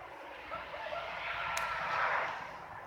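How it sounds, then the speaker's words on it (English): Cars driving by outside in a residential neighbourhood, one smooth passing whoosh that swells and fades in the distance, with no talk over it. "The cars riding by, nice and smooth"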